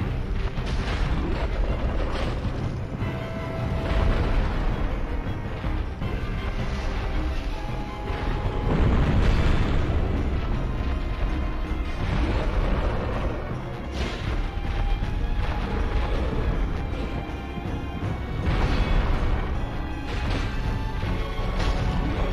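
Booming explosions and heavy crashes from the Demon Firesage boss fight in the Demon Ruins of Dark Souls Remastered, loud and repeated in surging waves over a steady rumbling game soundscape.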